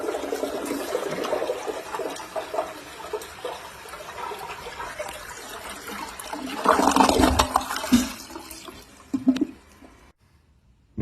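A Universal-Rundle 4490 low-flow toilet with a new flapper flushes, water rushing and gurgling for several seconds, swelling to a loud swirling drain and then tapering into a trickle and quiet refill.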